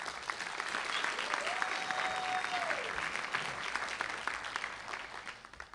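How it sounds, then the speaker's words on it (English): An audience at a city Martin Luther King Jr. celebration claps steadily for several seconds, with a brief whistle or cheer rising above the applause before it tapers slightly. "Please give them a round of applause."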